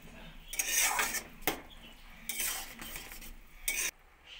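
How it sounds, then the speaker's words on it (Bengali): Jujube pickle simmering with melted jaggery in a pot, stirred with a metal spoon that scrapes and clinks against the sides in several bursts, close and moderately loud. "কুলগুলো কিছুক্ষণ ফুটিয়ে নেব।"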